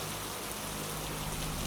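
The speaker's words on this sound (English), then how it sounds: "The rain's ceaseless pitter-patter against the roof created a symphony of solitude." Rain patters steadily on a cabin roof in a continuous, even wash of drops, with a low hum beneath and no voices.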